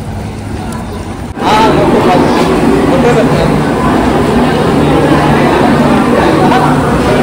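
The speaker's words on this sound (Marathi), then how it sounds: "तेव्हा बघा गर्दी, खूप गर्दी आहे पनवेल स्टेशनवर" A dense crowd murmurs steadily with a low rumbling background on a packed Panvel station platform during the Ganpati festival travel rush; a brief thump near the start, then constant loud hubbub.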